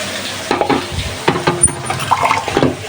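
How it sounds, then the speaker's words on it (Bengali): Okra and small shrimp stir-fry in spiced oil, a close, steady sizzle broken by repeated scraping and stirring strokes of a spatula against the pan. "চিংড়ি মাছগুলো হালকা একটু বেজে এই যে তুলে নিয়ে তারপরে যে মশলা দিয়ে ভালোভাবে কষিয়ে ঢেঁড়সগুলো দিয়ে দিলাম"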